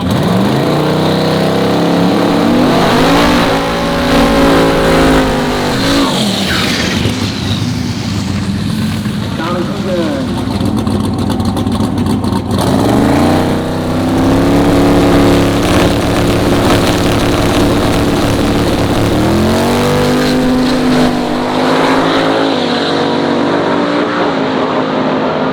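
A turbocharged race car at a Streetcar Takeover drag event revs and bumps forward in repeated rising and falling engine sweeps, loud and close, while people talk over the engine noise.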